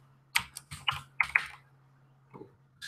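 A computer keyboard being typed on: a short burst of about six quick, light key clicks, quiet and close, then a pause and a couple more faint taps.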